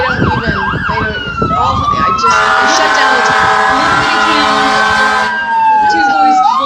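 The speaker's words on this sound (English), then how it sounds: "The sirens are going off, the fire department" Fire department sirens wail at a send-off event, with a warbling yelp followed by a loud, sustained electronic tone and a rising horn-like blare, close and dominant over background noise.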